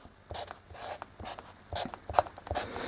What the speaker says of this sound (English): So we write like this.